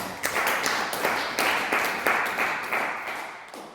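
A church congregation claps in steady rhythm to acclaim Jesus, about ten sharp, loud hand-clap beats spaced evenly, with voices faintly underneath.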